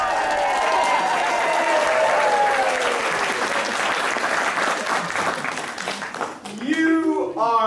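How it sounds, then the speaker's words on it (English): An audience applauds at an improvised ancient-mythology comedy show, with a full, sustained wash of clapping that fades and breaks up toward the end, where voices cut in over it. "let's all applaud for that"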